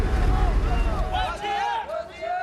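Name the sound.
crowd of villagers cheering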